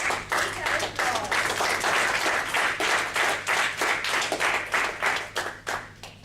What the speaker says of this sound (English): Please have an applause